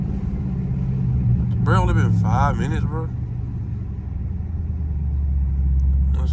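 A loud truck rumbles through traffic, a steady low engine drone running under the whole stretch, with someone talking briefly over it.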